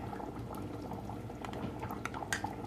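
Thick appam batter bubbling and popping steadily in a pan, with small irregular blips over a continuous low simmering hiss.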